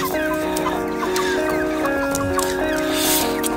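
Chickens clucking and cackling close by in a village, several birds overlapping continuously, with scattered higher squawks throughout.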